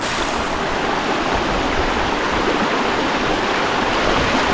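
Water rushes in a broad, steady flow along a stream in dense forest, a constant close hiss without pauses or voices.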